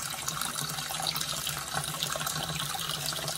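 Water runs steadily from a Tosca 8-inch widespread faucet into a sink, a constant close, moderately loud splashing stream with no talking.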